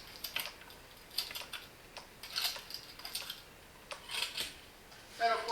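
Quick bursts of typing on a computer keyboard at a desk with a USB-C docking hub and dual monitors, clicking in short irregular flurries of keystrokes, close and fairly quiet, with no talking.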